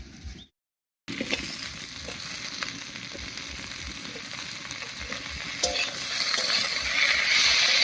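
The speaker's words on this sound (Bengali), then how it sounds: "টমেটো আর কাঁচা লঙ্কা দিয়ে দুই তিন মিনিট রান্না করে নিয়েছি" Chopped tomatoes and green chillies cook with winter vegetables in a hot pan, giving a continuous close sizzle that drops out for a moment near the start, then swells louder toward the end.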